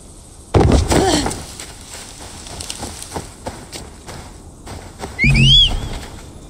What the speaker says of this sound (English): I'll call my horse